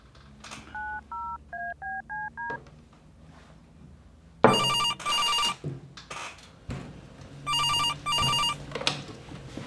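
A telephone dialed with a series of touch-tone beeps, then a landline bell ringing in two loud, bright bursts separated by a pause.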